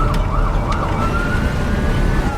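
Fire engine sirens wail continuously and loudly with a wavering tone, heard up close over a dense rumble of traffic and road noise.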